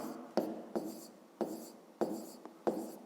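A pen writes in a school notebook with soft scratchy strokes, about six short rhythmic scribbles close to the microphone in a quiet room.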